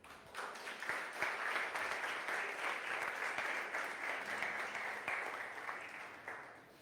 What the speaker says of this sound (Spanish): ¿Se atrevería a darle una ofrenda de palmas a Jesús?